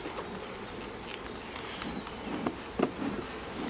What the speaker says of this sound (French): je pense que c'est un bel essaim, on va pas trop les embêter